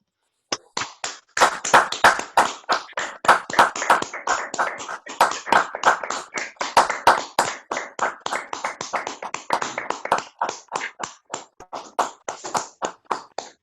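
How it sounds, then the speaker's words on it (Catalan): Scattered, uneven hand claps come from remote participants closing an online presentation of an age-friendly city plan for Montcada i Reixac. The claps are individual and sharp, some overlapping, and none are blended into a crowd roar. "enviem aquest aplaudiment virtual per tota la gent gran de Montcada i Reixac"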